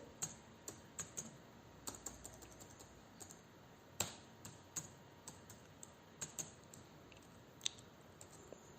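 C code typed on a computer keyboard for a programming exercise: close, soft keystrokes tapping in irregular bursts, quiet and alone.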